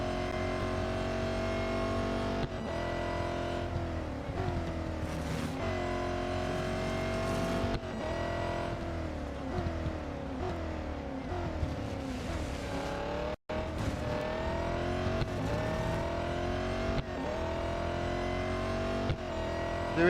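Race car in Real Racing 3 lapping a circuit, engine note rising and falling steadily through gear changes and turns, loud and close throughout, with a faint tire squeal and one brief dropout near the middle.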